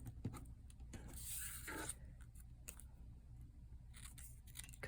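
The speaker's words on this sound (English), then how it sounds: "Cut a few little pieces just to go behind" Scissors make several small, quick snips through little pieces of red paper, soft close clicks and slides in a quiet room with no talk.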